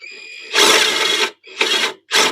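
Impact wrench working on exhaust bolts of a diesel-swapped 1968 Mercedes, heard as three loud bursts of rattling air-tool whirring, the first and longest followed by two shorter pulses with brief gaps, up close and without speech.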